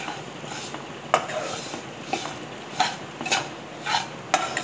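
Chiwra namkeen being stirred and roasted in a pan, with a spoon scraping and clinking against the pan at irregular intervals over a soft background hiss.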